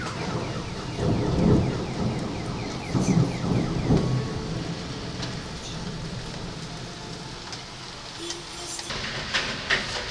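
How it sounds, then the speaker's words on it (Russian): A thunderstorm heard from an apartment balcony: rolling thunder swells in several heavy bursts over a steady hiss of rain, with distant cars straining on wet streets below, then quieter rain with scattered sharper sounds. "на улице гроза"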